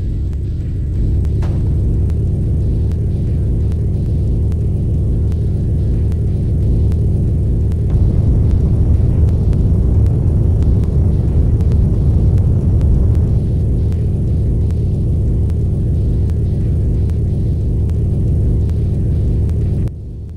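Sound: Piltdown vehicle engine rumble, Tribes Aerial Assault video game

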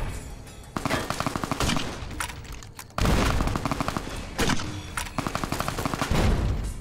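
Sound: turret firing in a video game

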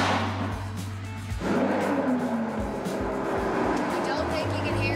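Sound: loud raw supercar engine

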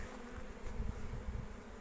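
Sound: bees buzzing on a frame

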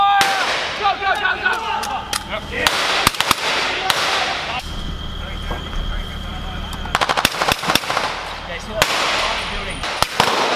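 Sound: rapid gunfire during joint military direct action drill

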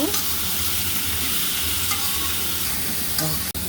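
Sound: stirring and frying spice masala with fish

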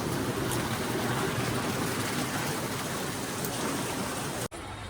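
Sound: heavy rain

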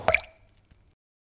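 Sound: water dripping from an AC condenser tube

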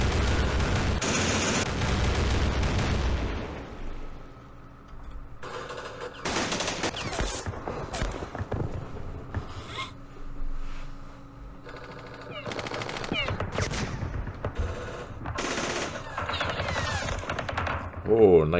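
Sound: gunfire in the Campaign Series Middle East video game

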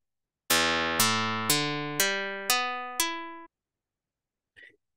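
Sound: Python physical-modeling synthesized guitar string, pitch going up

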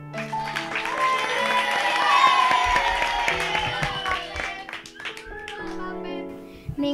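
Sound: audience applause

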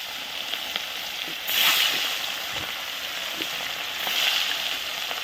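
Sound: rohu fish frying in hot oil

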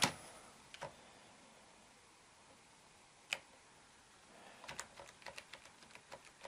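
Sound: typing on a USB computer keyboard connected to a laptop

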